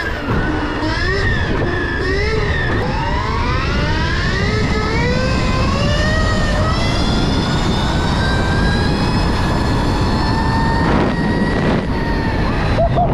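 An 80HP Stark Varg electric supermoto ridden at speed, its motor whine rising and sweeping in pitch over loud, constant wind rush, close and continuous.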